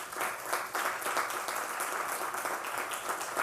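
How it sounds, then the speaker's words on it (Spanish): Audience applause at a medical book presentation, a dense steady wash of many hands clapping at moderate distance, sustained throughout without a break. "la doctora María del Carmen Ruiz Alcocer, que quiero que le den un aplauso, por favor."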